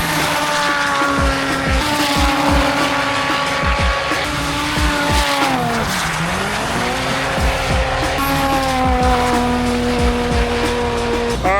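Polaris Pro R UTVs racing at a UTV Invasion event, engines screaming close by as they rise, drop sharply around a turn and climb again, with tire squeal and loud, steady crowd-free roar throughout.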